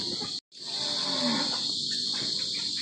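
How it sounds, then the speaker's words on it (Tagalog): Goats, including a baby goat, bleat on a backyard farm in the Philippines, one loud near call after a short gap, over a steady high insect drone. "Ito po yung baby kambing natin"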